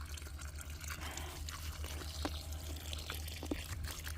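Water pours and trickles over the soil of young baby trees as they are watered outdoors, soft steady splashing with a few distinct drips, under a low background hum and no speech.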